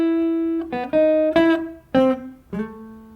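An electric guitar plays the plain single-note melody of a jazz chord-melody exercise, a handful of clean sustained notes with clear gaps between them, close and alone with no talking.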